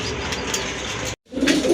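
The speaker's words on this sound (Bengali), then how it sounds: "এই যে দেখেন অসাধারণ এক জোড়া কবুতর, কোয়ালিটিফুল কবুতর।" Pigeons for sale coo in short repeated calls close by, a soft rounded cooing that pauses briefly, then resumes louder.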